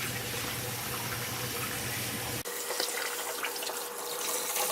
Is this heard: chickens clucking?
no